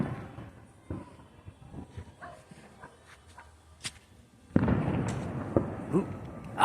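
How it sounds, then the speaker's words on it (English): Fireworks and firecrackers go off around a residential neighborhood, with scattered distant pops early, then a dense close crackling burst, while people talk and exclaim and a dog barks. "Okay, where's the fireworks?"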